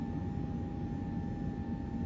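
An airliner's engines drone steadily in X-Plane 11 on a Stockholm to Frankfurt flight, a constant low rumble with a faint high whine held evenly throughout.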